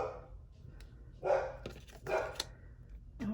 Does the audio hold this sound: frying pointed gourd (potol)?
no